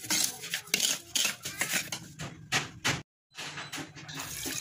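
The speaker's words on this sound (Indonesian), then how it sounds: "Lalu kita aduk-aduk sebentar biar nanti bahan-bahannya tidak mengumpal saat dikasih air." A utensil scrapes and clinks repeatedly against a pot while sugar is stirred for pudding, close and busy metallic rattling with a brief pause near the end.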